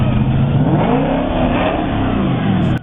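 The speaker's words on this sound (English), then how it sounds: "it gave the car a hysterical, unforgettable exhaust note" A 6.0-liter car engine revs hard with a loud, raspy exhaust note. It holds a steady roar close by for about three seconds, then cuts off abruptly.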